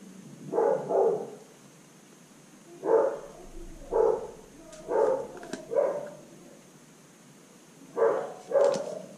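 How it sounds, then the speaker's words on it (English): Dog barking in the background, several bursts of paired barks spaced a second or two apart, moderately distant against a quiet room. "I don't know if you guys can hear my dog barking in the background"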